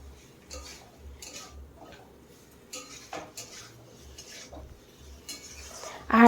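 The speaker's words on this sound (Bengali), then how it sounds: "এখন এখানে সে ভেজে রাখা আলু পটল দিয়ে দিতে হবে, দিয়ে ভালো করে কষিয়ে নিতে হবে মশলার সঙ্গে" A spatula stirs fried potato and pointed gourd into masala in a pan, making quiet, intermittent metallic scrapes and clinks.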